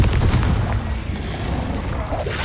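A Confringo blast spell explodes in Hogwarts Legacy, a loud booming burst with rumbling low end that rolls on steadily for a couple of seconds without any talk.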